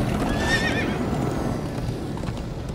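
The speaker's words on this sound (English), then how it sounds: "Come on, horses!" Horses neigh and gallop in the Minecraft Story Mode video game. A loud whinny rises over a dense, steady clatter of hooves, which continues without speech.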